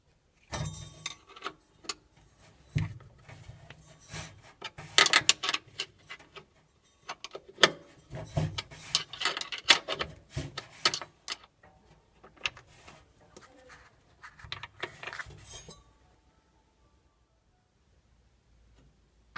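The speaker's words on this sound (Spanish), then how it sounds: "A continuación soltaremos la correa y aflojaremos los tornillos que sujetan el motor." Belt being removed and motor screws loosened on a Balay washing machine under repair, giving scattered metallic ticks, clicks and rattles of tools and parts for about sixteen seconds, then silence.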